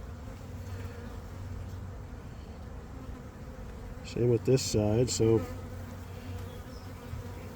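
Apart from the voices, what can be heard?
honey bees buzzing around an open hive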